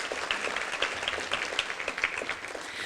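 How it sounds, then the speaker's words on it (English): A luncheon audience at a women's achievement awards event applauds the host venue, steady close clapping with distinct individual claps standing out in the crowd. "Let's give them a round of applause for going and hosting us today."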